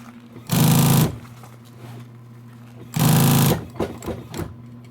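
A sewing machine stitches fabric in two short, loud bursts about two seconds apart, with a quiet room in between.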